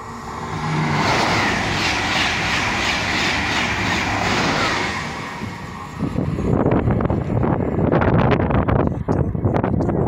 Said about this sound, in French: le passage de TGV Inouï à destination de Montpellier-Saint-Roch